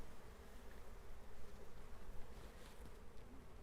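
Honey bees buzz inside a cage being installed into a hive, a faint, continuous droning hum with no talk over it.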